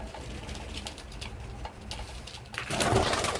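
Pigeons on a home balcony give soft, low coos, faint and close, followed by a louder rustle near the end that could be wing flaps.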